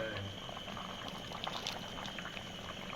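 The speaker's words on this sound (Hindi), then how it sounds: "ये टमाटर और हरी मिर्च डाल दिए।" Desi chicken pot simmering with tomatoes and green chillies just added, giving a steady bubbling boil with faint crackles and a brief splash of liquid early on, fairly quiet and without talk.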